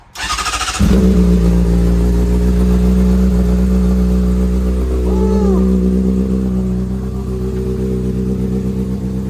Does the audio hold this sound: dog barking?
no